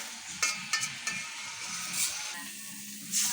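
Food sizzles and gets stirred in a pan while sautéing lemongrass, with a steady fry and a few scraping and clinking stirs up close.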